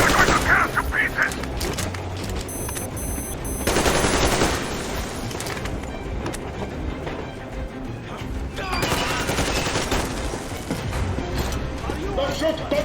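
A Metro Exodus firefight with bursts of automatic gunfire and single sharp shots, loud and close, coming in heavy clusters and then thinning out, with shouting voices mixed in.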